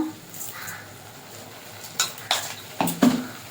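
A spatula scrapes and clinks against a pan while spice masala with coriander powder, sugar and turmeric is stirred and sautéed for palak paneer; a quiet, faint sizzle sits underneath, with a few sharper scrapes bunched toward the end.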